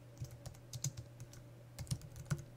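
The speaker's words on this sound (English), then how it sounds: "please type your title" Faint, close keystrokes tap on a computer keyboard in small irregular clusters over a low electrical hum, with no speech.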